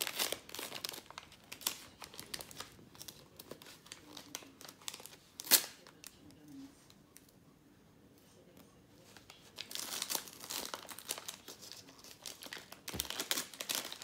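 Gift wrapping paper crinkles and tears loudly in close bursts as a parcel is opened, with a quiet lull in the middle before more rustling resumes.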